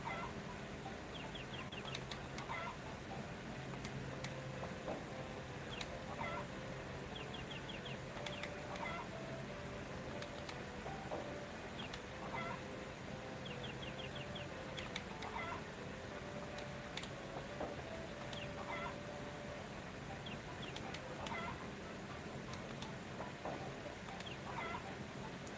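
Chickens cluck and squawk repeatedly in Harvest Moon: Friends of Mineral Town, with short bursts scattered over a steady layer of game background sound and no voices.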